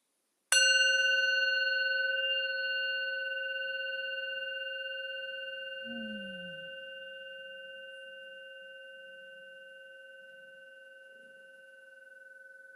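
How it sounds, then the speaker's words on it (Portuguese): A small bell is struck once and rings out with a clear, sustained tone that slowly fades over about twelve seconds, alone in an otherwise quiet space. "deu para ouvir o sininho?"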